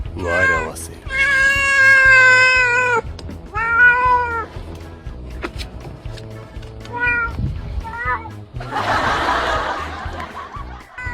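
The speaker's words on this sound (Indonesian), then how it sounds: "kucing itu mengeong, tapi terdengar seperti bicara selayaknya manusia" A cat meows repeatedly in drawn-out, speech-like cries close by, with a burst of noisy hissing or rustling near the end.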